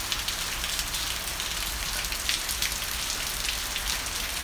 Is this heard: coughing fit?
no